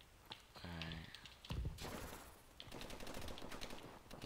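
Gunfire from the video game Call of Duty Advanced Warfare crackles in quick bursts with sharp reports, mixed with game effects and a brief tonal sweep, fairly faint overall.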